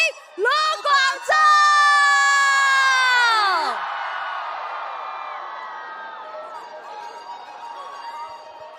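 A crowd at a Taiwan New Year's party erupts in loud, sustained screaming and cheering to welcome a singer, high shrill voices sliding down before fading into a softer crowd murmur.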